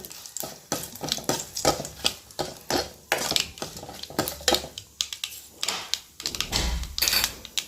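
Chillies and curry leaves fry in hot oil for a rasam, with steady, rhythmic scraping and stirring strokes in the pan over a crackling sizzle, close and fairly loud, and no talking.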